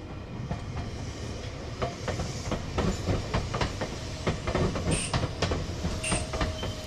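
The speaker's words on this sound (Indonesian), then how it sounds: "Ini kereta listrik guys." An electric train rolls past nearby in Japan with rhythmic clickety-clack of wheels over rail joints and a steady rumble, plus brief high squeals, slowing as it comes in to stop.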